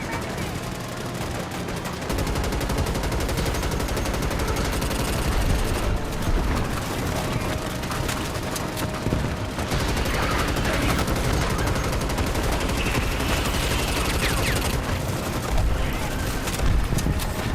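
Gunfire strikes a wall in a Starship Troopers video game, dense and continuous across the whole stretch, loud bursts layered over heavy combat noise with no pause.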